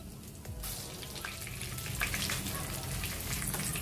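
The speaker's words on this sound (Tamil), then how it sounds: "வெந்தயம் கொஞ்சம்." Fenugreek seeds sizzling and crackling in hot oil in a pan, a steady close frying hiss with scattered pops that continues throughout without talk.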